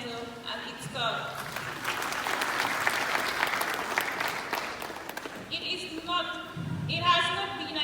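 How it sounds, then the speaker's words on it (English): A graduation ceremony crowd at a skills development center applauding, a swell of clapping lasting a few seconds between stretches of a speaker's voice before and after. "Please give a round of applause to Fajara Skills Development Center and its staff"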